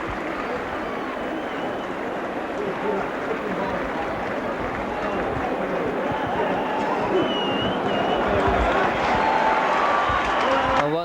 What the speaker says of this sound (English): Once again, this Central Park crowd giving Ellery Hanley a good round of applause